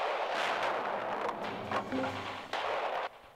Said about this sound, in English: Artillery firing at India 8.